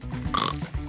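A pig oinking in a Dutch children's story, a single short nasal grunt with a snorting middle, close and clear.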